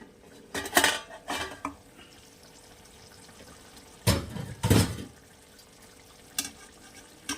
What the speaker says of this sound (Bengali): এবার আমি ঢাকনাটাকে তুলব।